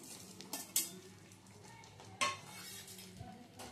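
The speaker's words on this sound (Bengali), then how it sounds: "এখন এর মধ্যে দিয়ে দেব ভেজে রাখা উচ্ছেগুলো।" Fried bitter gourd pieces go into a pot of boiling dal for a vegetable shukto dal, with a couple of sharp utensil clinks against the pot over a low bubbling simmer, close and moderately quiet.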